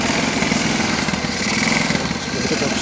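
A Novu motorcycle engine runs after a hand start, a loud, close, continuous buzzing idle with a rough mechanical rattle and no talking over it.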